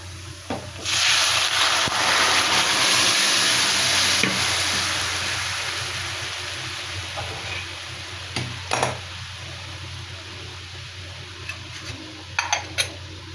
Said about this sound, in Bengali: এইবারে এর মধ্যে আমি ডালটা ঢেলে দেব।